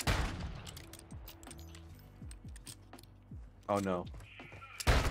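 Gunfire in a Call of Duty duel match, scattered shots and thumps popping under excited voices, with a louder burst near the end.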